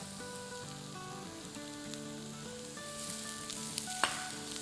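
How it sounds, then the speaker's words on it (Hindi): Onions sautéing in a pan with crushed chili, salt and black pepper, a soft, continuous sizzle beneath a steady melodic background, fairly faint with a small clink near the end. "प्याज देखें हमारी ऑलमोस्ट सॉटे हो गई है।"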